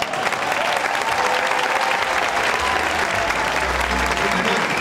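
A crowd at a retirees' gala claps loudly and continuously, a thick, sustained round of applause with a low rumble underneath near the end.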